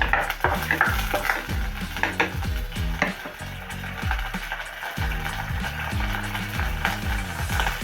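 Fenugreek seeds and curry leaves fry in oil with a busy continuous sizzle, while a spoon stirs and scrapes rhythmically against the pan throughout.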